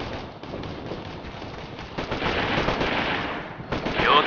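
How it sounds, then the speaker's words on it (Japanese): Suppressive gunfire rattles in the military shooter Operation Flashpoint: Red River, with steady bursts of rifle and machine-gun fire growing louder toward the end, and faint radio-style voices beneath. "制圧射撃を加えている。"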